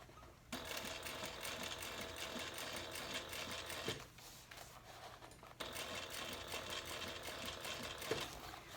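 A sewing machine stitching the bottom band onto a handbag, running in two long continuous bursts of rapid, even mechanical chatter with a brief pause between, close and clear with no talk.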